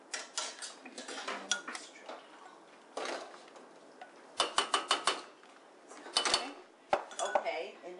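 A knife cuts through a stick of butter on a kitchen surface, with close clicks, taps and clinks of cutlery and dishes in irregular bursts and a voice heard briefly.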